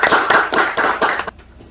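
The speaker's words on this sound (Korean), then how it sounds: "큰 박수 부탁드립니다" Audience applause at a Korean regional-development forum, welcoming an architect panelist: a dense burst of hand clapping with rhythmic surges, fairly close and loud, stopping abruptly after about a second and a quarter and leaving quiet room tone.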